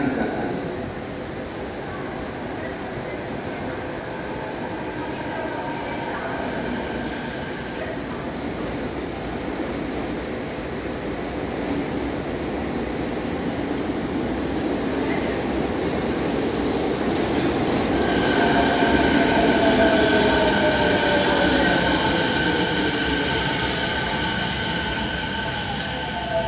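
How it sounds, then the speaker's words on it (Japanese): A Kobe Municipal Subway 1000 series train bound for Tanigami rumbles into Shin-Kobe station, wheels squealing and rails clattering as it slows, while a faint Japanese platform announcement plays in the background. "1番線に谷間行き電車が参ります。"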